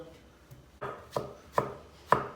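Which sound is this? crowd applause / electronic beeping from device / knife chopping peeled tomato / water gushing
knife chopping peeled tomato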